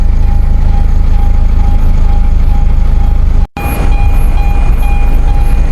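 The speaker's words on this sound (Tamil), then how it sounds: "யாழ்ப்பாணம் போகிற ட்ரெயின் தால கடந்து போக போகுது போல்" A loud, steady rumbling roar of a Colombo–Jaffna train in Sri Lanka going by close, with a sustained tonal whine and a brief dropout midway.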